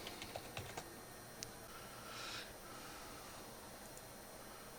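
Keys tapped on a computer keyboard while a user password is entered at a Debian 8.2 login screen, a few quick clicks near the start and then faint room hum with no voices.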